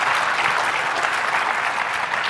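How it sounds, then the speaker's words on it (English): Dense, even applause from a conference audience after a talk on Azure API Management, a brief sustained burst of many hands clapping close by. "Give a round of applause for Don for coming out and talking about it"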